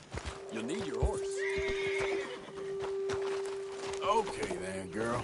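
Horse in the open-world Western game Red Dead Redemption 2 gives a loud, wavering whinny with long tonal neighs, with hoof clip-clop and game sounds around it and a voice talking over parts of it.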